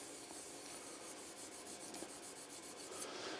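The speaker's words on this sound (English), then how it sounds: "I just place it flat on the 40 micron and just give it a little whiz like so." A tool held flat and rubbed on 40 micron abrasive to take off a burr, a close, continuous rasping scrape with a quick rhythmic back-and-forth pulse near the end.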